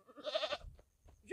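A goat bleats close by in a quick wavering run, followed by a quieter pause and a short rustle.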